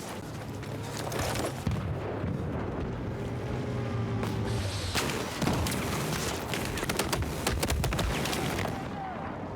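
Gunfire and bomb blasts from a first-person shooter video game, with dense, rapid cracks and thuds piling over a constant rumbling battle bed for the whole stretch.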